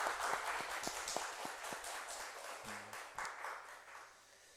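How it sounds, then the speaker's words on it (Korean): Members of a church congregation clap together during a Sunday worship service, a modest patter of hands in a reverberant room with a few distinct sharper claps, fairly quiet overall. "한번 박수로 우리 같이."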